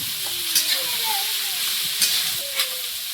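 Cauliflower, beans and potato with ginger, garlic, chilli powder and green chilli fry steadily in a pan, giving an even, close, continuous sizzle broken by a few soft stirring clinks, with no speech.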